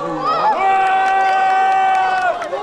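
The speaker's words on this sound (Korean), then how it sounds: "시민들은 그 모습을 눈에 담으며 연신 박수와 환호를 쏟아냅니다" Hundreds of spectators at a launch observatory about 15 km from Goheung's Naro Space Center cheer as the fourth Nuri rocket launch lifts off; one long, sustained cheering cry rises above a busy crowd, with scattered claps.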